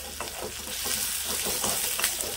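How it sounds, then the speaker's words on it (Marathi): Chopped onion roasting in a pan with a pinch of salt for a traditional Malvani chicken curry, giving a steady, close sizzle and frying crackle with soft stirring scrapes throughout. "आता आपल्याला आहे ना कांदा चांगला असा भाजून घ्यायचा आहे"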